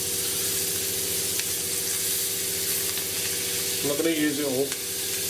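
Chopped cabbage sizzles steadily in a hot buttered pan, a constant close frying hiss with a brief spoken remark partway through.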